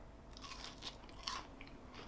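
Quiet crunching bites into a crispy air-fried hash brown, a few sharp crackly crunches in quick succession with no talk.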